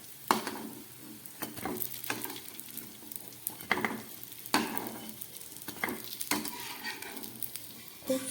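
Moong dal khasta kachori deep-frying in oil make a soft, steady bubbling sizzle, broken by several sharp scraping and clinking strokes of a ladle. Nobody speaks.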